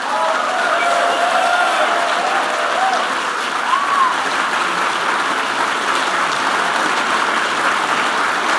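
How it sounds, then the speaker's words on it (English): Steady, sustained applause from a large audience at a comedy panel, a dense even patter of many hands clapping at once, with a few faint whistles. "Let's give a huge round of applause to the folks on stage."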